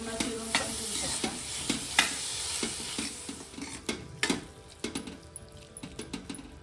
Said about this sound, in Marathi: चांगलं मिक्स करून घ्यायचं आपल्याला।